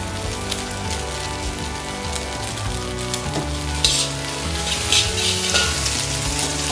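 Noodles being stirred in a hot pan while cooking Hokkien prawn noodles, a steady loud sizzle and fry with scraping stir strokes and bursts of sharper crackle near the end, no talking.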